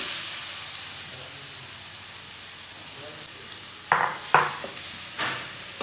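Grated carrots stirred into a hot pan with lightly browned semolina vermicelli, a gentle sizzle followed by a few loud scraping strokes of a spoon against the pan.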